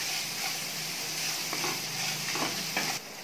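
Grated raw mango sautéing in a pan for mango rice, a steady close sizzle with a few soft stirring scrapes near the end, no voices.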